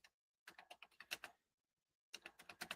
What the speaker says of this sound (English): Now you hear me typing.